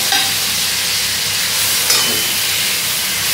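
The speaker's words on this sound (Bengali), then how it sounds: "জিরে ফোড়ন দেওয়ার পরে আমি এই কেটে রাখা টমেটো দিয়ে অ্যাড করে দেব।" Chopped tomatoes dropped into a hot cumin tempering in a pan for a pabda fish curry, giving a loud, steady, close hiss and sizzle that runs unbroken throughout, with no voices.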